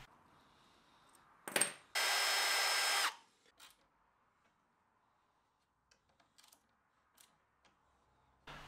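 A power drill drives screws into the hinges of a bi-fold door, giving one loud, steady whir lasting about a second, followed by scattered light clicks and taps in an otherwise quiet room.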